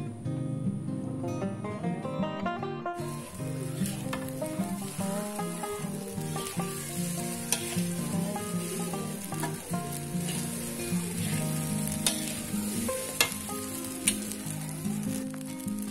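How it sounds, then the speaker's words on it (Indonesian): Steady, loud sizzling of fried rice with cabbage frying in a hot pan, with occasional scraping and clinking as it is stirred; no talking. "Lalu dioseng lagi deh."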